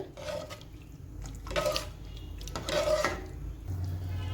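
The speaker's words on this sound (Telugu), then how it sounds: "వాటర్ బాయిల్ అవుతుంది" Water coming to a boil in a pot for bagara rice, a soft continuous bubbling and rumbling with a few brief clinks of metal cookware, close and steady, with no one speaking.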